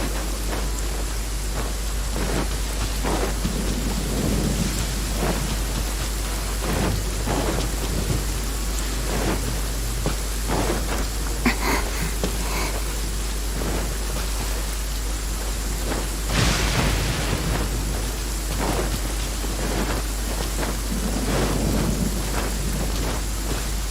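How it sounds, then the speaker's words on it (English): Heavy downpour in Genshin Impact's Inazuma region, a constant dense hiss of rain on surfaces with thunder rumbling and cracking several times throughout, steady and loud with a low hum underneath. "Wait a downpour."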